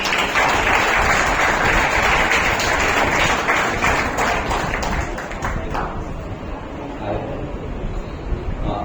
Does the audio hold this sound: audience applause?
yes